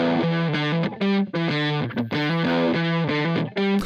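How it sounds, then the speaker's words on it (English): Distorted electric lead guitar recorded in Logic Pro X, thin in tone, playing a short choppy phrase of separate notes with brief gaps between them, dry and up close. "I'm just going to demo it on a bit of guitar here."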